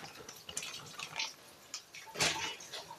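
A 30-ounce bag of frozen shredded hash browns is poured into a kitchen bowl, making a series of soft rustling, pattering bursts, quiet and close.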